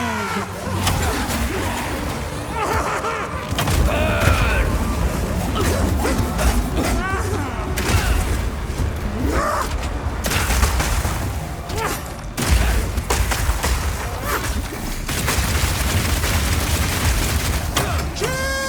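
Rapid bursts of gunfire and booming impacts from Path of Exile 2's Mercenary class pound almost without pause, loud and dense, mixed with shouted voice lines and clashing combat effects.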